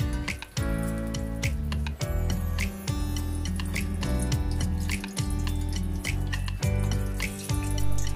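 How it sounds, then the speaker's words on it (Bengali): Tap water runs steadily into a sink while rohu fish is washed, with continuous splashing and repeated drips and knocks as the fish is handled under the stream. "এখন রুই মাছের আঁশটা ছাড়িয়ে মাছটা ভালো করে ধুয়ে নিচ্ছি।"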